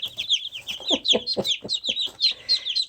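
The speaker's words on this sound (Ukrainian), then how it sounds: "І вилізли курчатка поки ми їх тут ще тримаємо, тому що ще лізуть." High, thin cheeping from young chicks repeats rapidly and close by, mixed with a few soft clucks from a hen.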